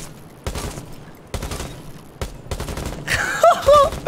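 Automatic gunfire at the shooting range in Rainbow Six Siege, three loud bursts of rapid shots spaced about a second apart, followed by heavier layered firing with whistling effects near the end.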